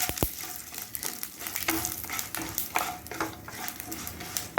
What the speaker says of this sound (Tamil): சேர்த்து பொரியும் போதே கடலப்பருப்பு போடுவோம்